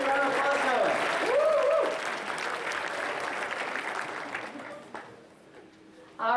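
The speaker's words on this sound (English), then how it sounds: "Come on, let's get a round of applause going." Applause and cheering from a crowd at a hackathon opening ceremony, loud at first with a whoop over the clapping, then thinning and tapering to sparse claps before a fresh burst at the end.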